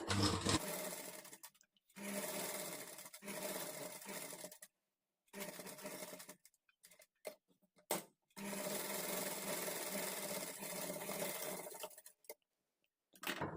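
A sewing machine stitches a princess cut blouse, running in several long bursts of rapid whirring with short pauses between runs, close and steady, with no talk.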